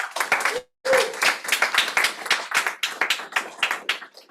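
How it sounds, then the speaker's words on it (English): A full-room audience at a startup pitch night claps loudly, many hands in quick uneven bursts, with a brief pause early before the applause resumes steadily. "Give yourselves a round of applause for showing up tonight."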